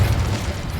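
A short, loud, rumbling burst of fire from the Incendio spell in the video game Hogwarts Legacy, a heavy low whoosh with a crackling edge that fills the whole moment.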